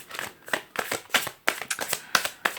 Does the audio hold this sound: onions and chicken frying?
no